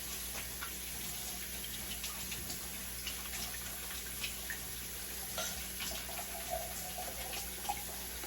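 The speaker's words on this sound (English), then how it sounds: "I'm gonna start off by washing my hands like per usual. This is dish detergent, you know." Hands being washed with dish detergent under a running kitchen tap, a steady faint stream of water with small splashes and drips throughout, no talking.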